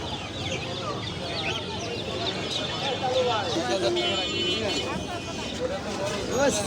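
Chickens cluck amid a noisy bird market in Mirpur, their calls scattered through steady crowd chatter and background bustle, with voices talking throughout.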